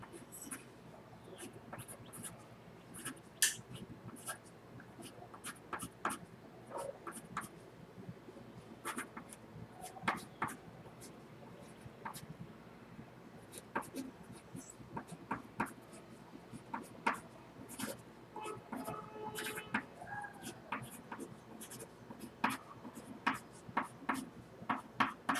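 A pencil letters on paper close up, with quiet, irregular scratching strokes and light taps continuing throughout at low volume, no talk.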